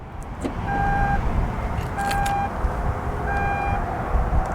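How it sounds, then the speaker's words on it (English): A BMW tailgate closing by key fob button outdoors, with a repeated pair of warning beeps sounding three times at steady intervals over soft ambient noise. "So now let's hit the button on the key fob again."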